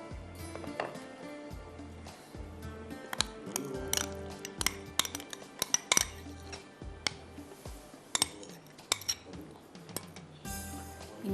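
A spoon scoops thick white raita into a red bowl, giving a busy run of close clinks and taps of metal against ceramic, with soft scraping between the strikes and no talk.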